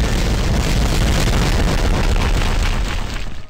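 A huge explosion in the video game Heaven Dust gives a sustained deep rumbling roar. It is loud and dense throughout, then begins to waver and fade at the very end.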